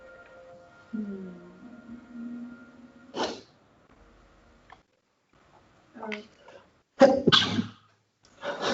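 A single sneeze rings out between brief stretches of conversation, with a couple of short sharp noises following near the end.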